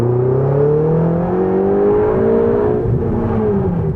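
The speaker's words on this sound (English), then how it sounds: "my real pleasure in life is downshifting like this" A Ferrari 488 engine revs loudly from inside the car while downshifting, its tone rising and sliding in pitch with a steady, close mechanical roar throughout.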